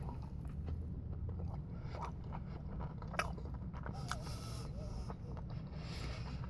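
Crispy Chick-fil-A chicken tenders are bitten and chewed close to the microphone, with sharp crunches and wet mastication repeating over a steady low background hum.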